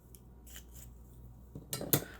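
Scissors snipping craft paper around a sticker, a few quiet cuts that build to two sharper, louder snips near the end, close and alone.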